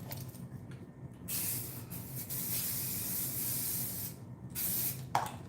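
A few quick hissing spritzes from a spray bottle, close by, with short pauses between bursts and no talking.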